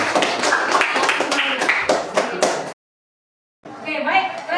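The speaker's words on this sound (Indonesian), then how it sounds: "Kita beri tepuk tangan." A classroom group claps together after a presentation, a dense burst of many hands lasting a few seconds before a pause and a short return of noise.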